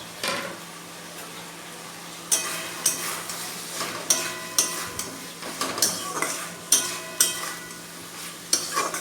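Fried pointed gourd stirred into shrimp masala in a pan, with a low sizzle under repeated sharp scrapes and knocks of a spatula against the pan, about two per second, close and without talk.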